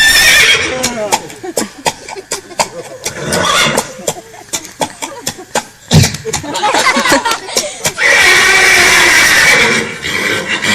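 A horse neighs in loud, repeated whinnying bursts with snorts and breathy calls, near and dominant, mixed with other vocal noises across the stretch.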